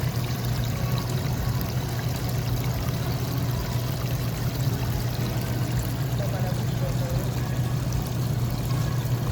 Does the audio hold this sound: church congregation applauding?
no